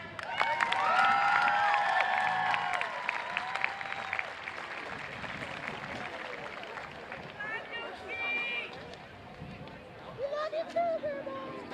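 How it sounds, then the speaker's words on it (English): An audience claps at a high school graduation ceremony, with steady applause and some cheering that fade over several seconds beneath crowd chatter, and voices come through toward the end. "Oh yeah, we can clap."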